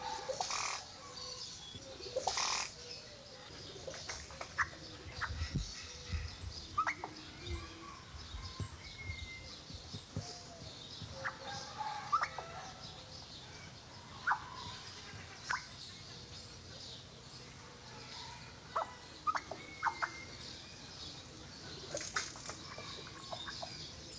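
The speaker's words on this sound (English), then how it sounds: "The oripendula makes a variety of sounds. Some of them don't sound like a bird at all." Oropendola calls from a zoo animal program on the Sega CD, a varied mix of chirps, whistles and odd non-birdlike notes scattered across a steady ambient background, moderately faint with no talk.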